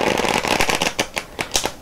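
Tarot cards with a slick finish shuffled close up in a quiet setting, a dense riffling burst followed by several sharp separate snaps and slides.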